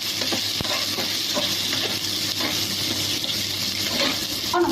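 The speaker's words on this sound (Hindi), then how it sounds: "प्याज हिला देते हैं।" Chopped onion frying in a pan while being stirred, a steady close sizzle running throughout with faint spoon scrapes now and then, no voices.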